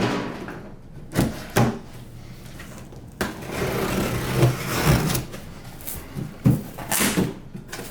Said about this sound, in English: let's cut the tape